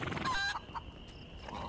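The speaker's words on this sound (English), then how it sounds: "Hello, chicken." A chicken in A Plague Tale: Innocence gives a couple of short clucks, close and moderately loud over a faint background hum.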